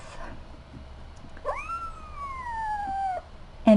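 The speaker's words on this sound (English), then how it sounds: "We rescued, these are rescue kittens." A rescue kitten gives one drawn-out, rising-then-falling meow, close and fairly clear over a low background hum, with a brief sharp sound at the very end.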